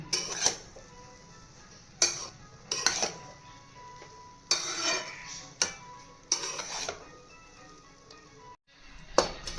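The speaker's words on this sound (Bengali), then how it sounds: "সবজিটা দিয়ে দেবো, আরও কিছুক্ষণ নাড়তে থাকবো।" Vegetable semolina upma is stirred in a pan, a spoon clinking and scraping against the metal in uneven, intermittent strokes, close and moderately loud with quiet gaps between them.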